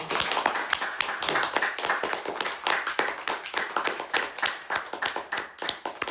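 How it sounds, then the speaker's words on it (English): Applause for a broadcaster at an Oxford student media society interview, an audience clapping steadily in a hall, crisp individual claps clearly audible throughout at moderate volume. "Can we have a huge round of applause for Ali?"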